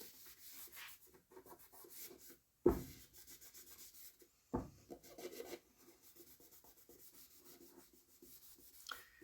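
Alcohol wipes rubbed over a sanded cherry burl and green epoxy serving board, giving soft continuous scrubbing strokes with a couple of sharper knocks or bumps along the way.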